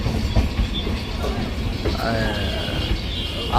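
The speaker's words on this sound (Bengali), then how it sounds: "ট্রেন আমাদের ছেড়ে দিল জাস্ট টাইমে" A passenger train pulls out and rolls along the rails with a steady low rumble and faint clattering and squeals. It is heard from on board at moderate loudness, with some talk in the background.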